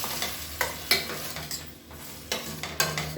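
Vegetables sizzle and fry in a pan with tamarind water added while a utensil stirs and scrapes them in quick intermittent strokes, close up and without talk.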